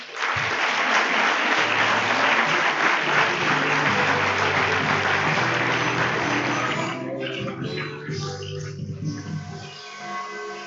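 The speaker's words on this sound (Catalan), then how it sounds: "Un fort aplaudiment." A school audience at a Catalan Christmas carol concert applauds fifth-grade children, a dense, loud wash of clapping that lasts about seven seconds before thinning into scattered claps and fading, with faint background voices.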